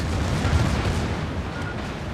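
Warship guns fire in World of Warships, a dense, continuous roar of heavy booming blasts that fills the whole clip with no separate shots and no talk.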